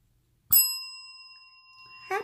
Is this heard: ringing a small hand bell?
yes